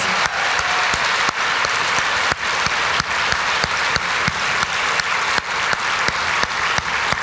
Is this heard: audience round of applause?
yes